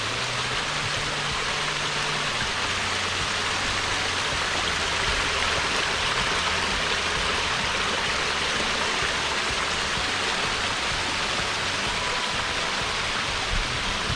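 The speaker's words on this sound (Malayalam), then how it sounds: "ചെറിയൊരു വെള്ളച്ചാട്ടം." Steady rushing of a small waterfall in Ireland, a continuous even hiss of falling water filling the scene from start to finish, with no voices.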